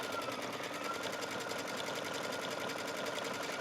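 Sewing machine stitching a buttonhole on a knit skirt waistband, a fast steady mechanical whirring and tapping that stays close and even throughout, with no talking.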